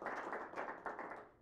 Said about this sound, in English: if we could just give him a round of applause to get started